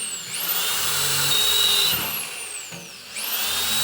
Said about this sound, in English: some of the times when I was drilling, it was going through